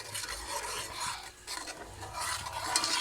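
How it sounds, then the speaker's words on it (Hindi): Masala for Lahori chikar cholay being roasted in a pan, a spatula scraping and stirring in steady rubbing strokes with a faint sizzle beneath, close and with no speech. "अभी इस मसाले को मैं अच्छी तरह भून लूँगी।"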